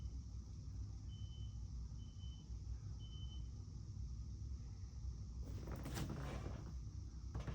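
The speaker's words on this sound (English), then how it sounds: "I think it's the equipment keeps backing up, but I keep hearing the beeping." Stump grinding equipment backs up outside a house while being loaded onto a truck. Three faint, evenly spaced reversing beeps sound over a low engine rumble, followed by a louder burst of mechanical noise.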